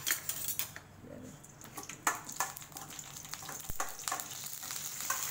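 Mustard seeds splutter and pop in hot oil for upma, with irregular crackles and sharp clicks against a low sizzle and a few utensil clinks, close and moderately loud.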